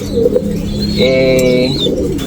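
Pigeon cooing near a breeding loft where a healthy young Arden-line bird is kept, a steady throaty coo with soft chirps, fairly close and continuous over low background murmur.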